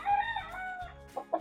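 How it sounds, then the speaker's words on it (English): A big one-eyed Indian Asil game fowl rooster crows up close, loud and drawn out, its rough call wavering before breaking into a few short clucks at the end. "this big old one-eyed rooster right here"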